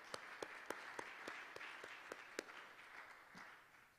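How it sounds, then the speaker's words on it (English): Faint, sparse clapping at an international business meeting as a new board is recognised: a handful of distinct claps stand out over a quiet room tone, thinning and fading toward the end. "let's give them all a round of applause"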